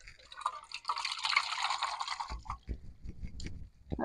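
A bowl of river water holding freshly caught small fish is poured out, giving a splashy rush of liquid followed by scattered wet drips and patters. The sound is close and fairly quiet.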